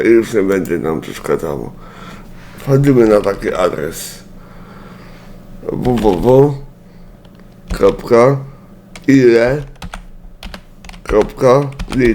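Keyboard keys clatter in quick bursts while someone talks over them; the typing is close and fairly quiet beneath his voice.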